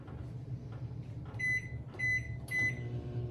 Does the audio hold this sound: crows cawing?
no